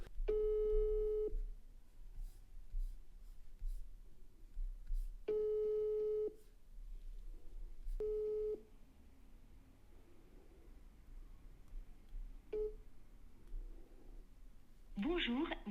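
An outgoing phone call rings unanswered, with repeated long electronic ring tones in steady bursts separated by pauses and quiet room noise. A voice speaks briefly near the end.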